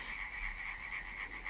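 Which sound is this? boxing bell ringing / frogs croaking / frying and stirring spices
frogs croaking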